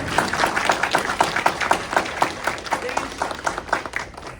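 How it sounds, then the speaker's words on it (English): An audience at a career panel event gives a round of applause, with dense rhythmic clapping that swells and fades over a few seconds, and voices are heard alongside it. "Can we please have a round of applause for this?"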